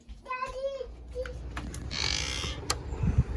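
A door creaks open or shut beside a Weber kettle grill while beer can chicken cooks, a short drawn-out squeal close by, with a child's and an adult's voices speaking around it.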